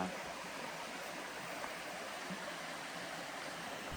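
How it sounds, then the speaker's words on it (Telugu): A forest stream in Maredumilli flows with a steady, broad rushing hiss, close and continuous, with no voices. "వాటర్ సౌండ్ అబ్జర్వ్ చేసి బ్యాక్ సైడ్కి వెళ్ళి చూస్తే అక్కడ చక్కగా వాటర్ వస్తున్నాయండి"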